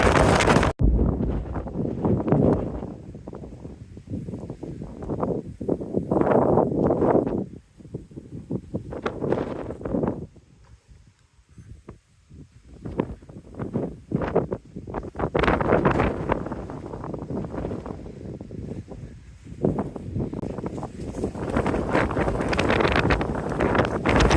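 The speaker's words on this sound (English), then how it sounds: "Man, that wind is strong up there." Strong wind gusts buffet the microphone on the open, grassy Max Patch summit, a loud roaring rush that swells and drops in waves with no talking.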